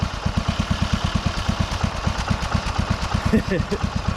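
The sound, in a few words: Kohler Courage engine idling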